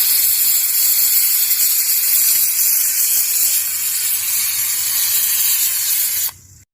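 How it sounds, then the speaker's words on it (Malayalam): A pressure cooker cooking beef chukka vents steam in a loud, sustained hiss close by, holding steady for several seconds before cutting off abruptly. "ഇത് 4 വിസിലായി നമുക്ക് ഇത് വാങ്ങാം."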